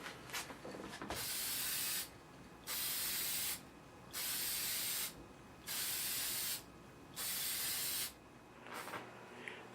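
A spray can applies extra dark walnut finish to a radio cabinet in five steady bursts of hissing spray, each about a second long, with short quiet pauses between them.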